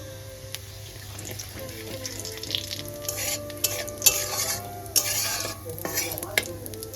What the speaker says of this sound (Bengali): এবার দিয়ে দেবো হাফ চামচ গোটা জিরে ফোড়নে